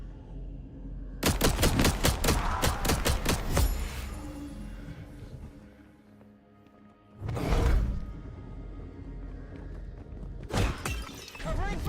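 Gunfire rings out in Vampire: The Masquerade Bloodlines 2 as a fast, loud automatic burst of shots. A pause follows, then a single heavy blast and a few more scattered shots, with sharp shattering crashes mixed in.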